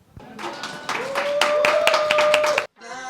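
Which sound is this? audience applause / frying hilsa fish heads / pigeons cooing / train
audience applause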